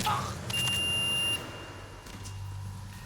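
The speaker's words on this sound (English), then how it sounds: "Beeping noise. That was the game, right?" A steady electronic video game beep tone sounds for about a second, then fades into a low hum with faint background noise.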